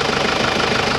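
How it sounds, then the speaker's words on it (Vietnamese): A 2005 Isuzu Hi Lander with a 2.5-litre diesel engine idling, giving a steady, close, even rumble with a faint rhythmic knock and no talking. "Máy cực kỳ là êm ái nha. Máy nổ nè."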